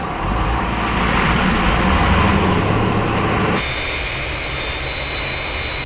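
Fireflash, a jet airliner from Thunderbirds, approaches the runway with a loud, steady jet-engine roar that holds for several seconds, then shifts to a thinner, higher whine before cutting off.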